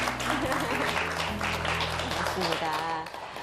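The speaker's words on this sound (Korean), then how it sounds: "여러분 박수로 맞이하겠습니다" Studio audience claps to welcome a guest onto a Korean television talk show, a dense steady burst of applause mixed with some talk and a low tone, fading near the end.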